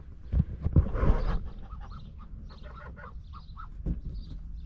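Geese settled inside a shelter at sleep time give a few loud close honks, then a string of softer, scattered nasal quacks and murmurs from the flock.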